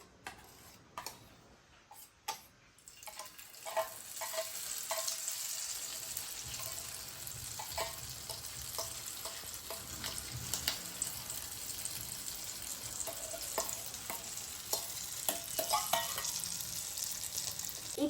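A chicken omelette with coriander, onion and egg fries in oil on a pan, giving a steady close sizzle with scattered ticks and pops and occasional scraping stirs, starting after a few sharp knocks.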